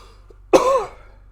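A single sharp cough, close and fairly loud, with a short rasping tail that fades within half a second.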